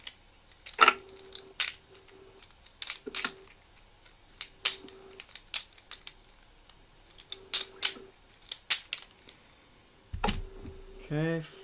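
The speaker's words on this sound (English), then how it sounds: "I have to shuffle the stack here" Cards from a stack for the board game Too Many Bones being shuffled and handled on a table, giving a series of short, crisp riffling and snapping bursts with pauses between them, close and fairly quiet.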